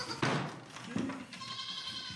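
Goats on a dairy goat farm bleating close by, two or three short calls over faint background noise.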